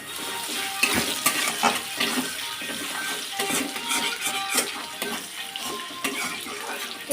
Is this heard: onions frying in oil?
yes